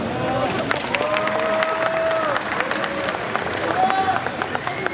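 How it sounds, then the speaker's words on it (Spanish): Audience applause at a comedy show in Mérida, Yucatán, with scattered claps and crowd noise under a loud voice talking over it and brief whistles. "Un aplauso para el Motomami."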